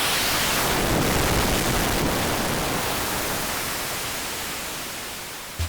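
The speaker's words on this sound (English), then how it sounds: "with a bit of fine-tuning, we got a lot of different flavors of noise" Synthesized noise comes from a chaotic, non-periodic sine wave patch: a dense, steady hiss like pink static that holds loud and even, then slowly fades slightly before a tiny click at the end.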